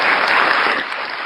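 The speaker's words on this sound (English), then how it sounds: "Round of songs. applause." A short, loud burst of audience applause: dense clapping that fills the moment with no voices over it.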